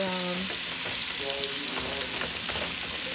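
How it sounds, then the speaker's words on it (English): Ground meat browning in a pan, a continuous close sizzle with faint stirring scrapes throughout, steady and moderately loud. "you're just gonna slowly separate the meat and then brown it"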